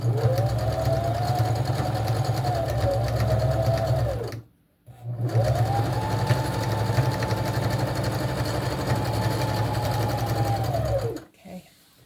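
Sewing machine running steadily as it stitches trim along the edge of a fabric fish, two long continuous whirring runs separated by a brief pause, close and loud with no talk.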